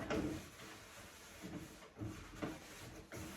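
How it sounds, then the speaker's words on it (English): A dry paper towel wipes paint off a wooden drawer in a furniture saltwash paint job, giving quiet repeated rubbing strokes with soft scuffs and brief thumps, close and without talk. "I'm gonna wipe off as much as I can of this on this drawer"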